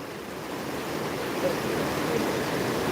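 Strong water current rushing over a deep pit makes a steady, full roar of turbulent flow, close and continuous without pause.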